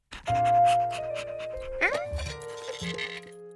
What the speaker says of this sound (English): You're one special dog, Hundley.